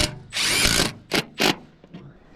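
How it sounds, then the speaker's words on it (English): A Milwaukee M12 cordless bandsaw whirs in a short, loud burst, then gives two brief pulses before trailing off, heard nearby with no talk. "That's a sweet tool. M12 for the ages. The bandsaw, yeah."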